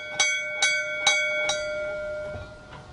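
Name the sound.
ship's bell on the Boston Tea Party ship Beaver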